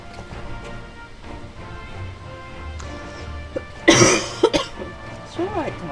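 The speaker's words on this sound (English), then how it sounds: "Just make the cat jump with coughing" A person coughs in a short loud burst of a few harsh coughs near the end, close by, following a stretch of quiet voices and background game sound.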